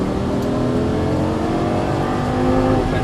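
Lamborghini Gallardo LP550-2 engine on a racetrack, held at a loud, steady drone with a slight rise in revs near the end, close and continuous with no talking.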